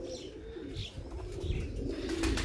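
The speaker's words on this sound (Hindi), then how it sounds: "ये मीर मुख्तार खान साहब वाला काजल कबूतर है जी माशाल्लाह।" Kajal pigeon cooing in a low, soft, throaty murmur that carries on through a short stretch, heard close over faint background noise, with a few light chirps.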